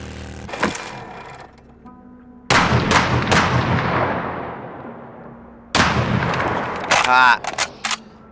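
Gunfire in the video game 7 Days To Die: a single early crack, then loud sharp shots with long decaying tails, a second cluster near the end with rapid repeated bursts, and faint game sounds between.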